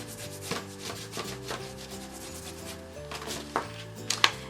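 A marker cap rubbed firmly back and forth over paper to transfer a dark graphite design, giving a scratchy, continuous close-up rubbing with a few sharper scrapes, played over steady background music.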